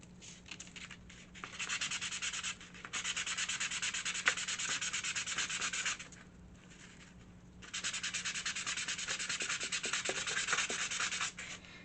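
Wooden furniture edges are hand-sanded in long steady rubbing strokes, two extended bursts split by a short pause, close and even in loudness, with no voices.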